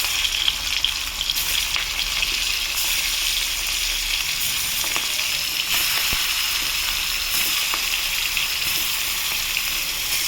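Marinated hilsa fish pieces frying in hot oil, giving a steady, loud, close sizzle that holds evenly throughout with a few faint stirring clicks and no voices.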